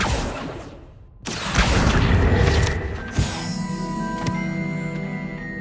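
A Confringo fire spell in Hogwarts Legacy bursting into a loud booming explosion after a short pause, followed by a crackling, ringing tail that slowly fades.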